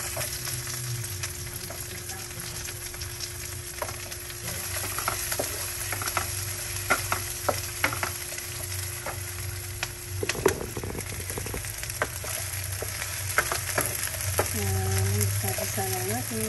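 Garlic and onion fry in oil in a pan with a steady, close sizzle, with occasional clinks and stirring scrapes and a brief voice near the end.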